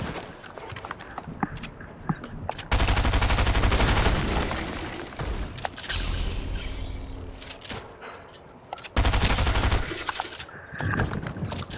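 Star Wars video game gunfire with dense, loud bursts of rapid automatic shots, broken by quieter stretches of scattered shots and footsteps, then a second heavy burst later on.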